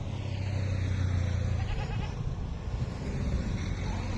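Goats bleat steadily near a forest roadside, their calls overlapping into a continuous, fairly close, drawn-out bleating with no talking.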